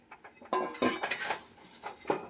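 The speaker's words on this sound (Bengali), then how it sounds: "এইভাবে নেড়ে নেড়ে নুনের যে গরম ভাবটা তাতেই এটা সেদ্ধ হয়ে যাবে, নরম হয়ে যাবে।" Amla gooseberries stirred in hot salt in a pan, giving a run of clinking and scraping metallic clatters at an uneven rhythm, close and fairly loud, with no voices.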